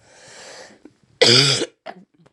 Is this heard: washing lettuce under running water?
no